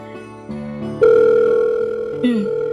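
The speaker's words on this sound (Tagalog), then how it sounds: "Nagre-ring naman." Electronic phone ringback tone on a call to a cellphone, a few short beeping tones followed by a loud sustained ring tone and a brief falling blip, heard alone without speech.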